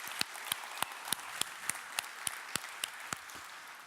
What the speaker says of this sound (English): So a big round of applause for the SecT people.